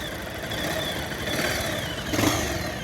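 A Bajaj Pulsar 220 motorcycle engine, recently fixed of a ticking noise, runs smoothly with a close, steady hum and a slight rise in revs toward the end.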